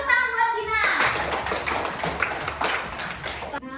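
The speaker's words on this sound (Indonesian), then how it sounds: "Tepuk tangan buat Dina." Clapping for a student named Dina during a class session, a burst of quick, overlapping hand claps from a small group, close and steady for a few seconds after a voice speaks.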